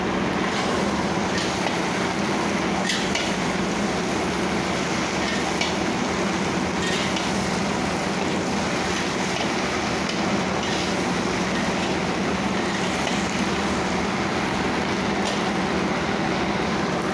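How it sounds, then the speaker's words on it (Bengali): Onion stalks and potatoes frying in a pan, making a constant, dense sizzling hiss that runs unbroken throughout with faint clicks and clatter mixed in. "পেঁয়াজ কলি ভাজা হচ্ছে।"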